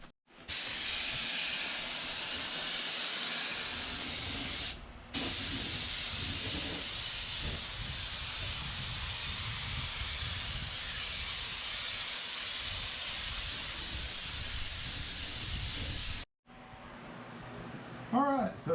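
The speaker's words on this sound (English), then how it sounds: "We got the fan aerator running, the evacuation method" Fan aerator running loudly during spray painting of a horse trailer, a constant roaring hiss that fills the space, briefly cutting out twice, with a voice heard faintly over it near the end.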